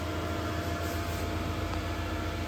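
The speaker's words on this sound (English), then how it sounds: "You have to excuse the extra noise because I've got the fan on for the dogs." An electric fan runs inside a campervan, giving a steady, dense whooshing hum with a low mechanical drone underneath, constant and unbroken throughout.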